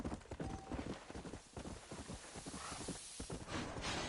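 Horse hooves clip-clop at a steady walking rhythm in the Red Dead Redemption video game, fairly close and continuous over a dense layer of background game sound.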